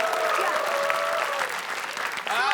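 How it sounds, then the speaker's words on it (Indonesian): A studio audience at a comedy quiz show claps loudly in a brisk burst, with voices sounding over the applause. "Tepuk tangan dulu."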